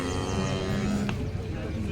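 A cow at a cattle market gives a single loud, drawn-out moo close by, tapering off near the end.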